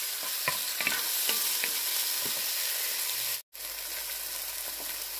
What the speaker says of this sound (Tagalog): Sibuyas na puti. Ayan, gisa-gisa lang.